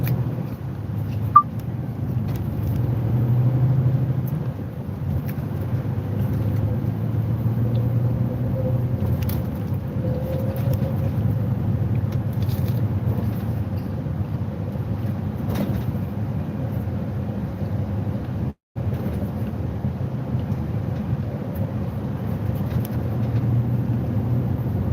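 A van or car cruises along a road toward a UK east-coast seaside town, giving a steady low engine and tyre rumble throughout. There is a brief dropout near the end.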